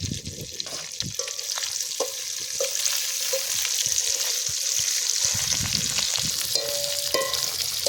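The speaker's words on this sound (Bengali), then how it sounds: "এবার এটা ভালো করে ভেজে নি।" Chicken pieces frying in hot oil for a KFC-style dish, a steady loud sizzle and bubbling crackle with occasional stirring clinks and scrapes, close up and continuous with no talking.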